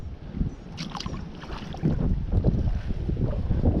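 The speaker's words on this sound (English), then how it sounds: "The wind has picked up and the temperature dropped about, at least 10 degrees." Wind blowing outdoors by a creek while wading and fishing, buffeting the microphone in low rumbling gusts that grow stronger partway through, steady and close.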